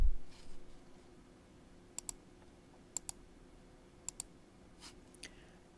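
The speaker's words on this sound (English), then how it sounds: "Up here, you click on this calibration stick" Computer mouse clicks in a quiet room: three quick double clicks about a second apart, crisp and close, then a softer single tap near the end.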